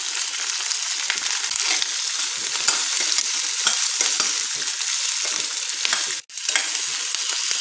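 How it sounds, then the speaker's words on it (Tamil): Onions, garlic and whole uncut tomatoes fry in a pan for onion chutney, giving a steady, close, bright sizzle that crackles continuously and drops out for an instant near the end. "இந்த பூண்டு வெங்காயம் எல்லாத்தையும் இதில் சேர்க்க போகிறேன்."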